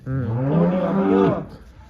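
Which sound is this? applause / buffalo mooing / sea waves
buffalo mooing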